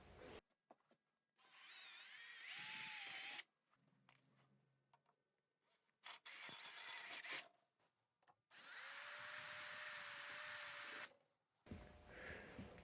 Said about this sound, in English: I'm going to move up to the next size drill bit